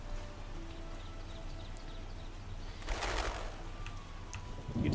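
Steady rain falls in The Witcher game as a constant soft hiss, with a louder gust of noise midway and faint bird chirps and hoofbeat-like knocks in the background.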